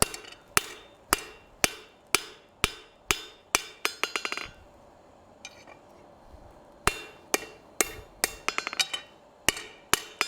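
A hot decorative hacksaw is hammered on an anvil in a forge, sharp ringing blows landing in quick bursts and steady strikes with a short pause midway, close and distinct.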